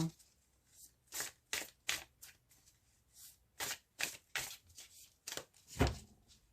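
A deck of tarot cards is shuffled by hand in a series of quick, crisp riffles and slides that come in uneven bursts with short pauses between them, close and fairly soft, with no talk.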